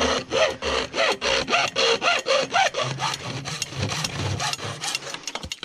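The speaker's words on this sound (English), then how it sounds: "Same thing, hacksaw. We want to cut square down through here." A hacksaw cuts square through French drain pipe in rhythmic back-and-forth strokes, about a dozen loud, even rasps that turn to quicker, lighter strokes near the end.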